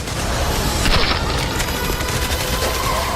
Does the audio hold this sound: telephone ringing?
no